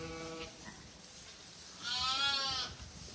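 Big, strong newborn lambs bleat during lambing, a short quavering cry near the start and a louder, drawn-out wavering bleat close by toward the end.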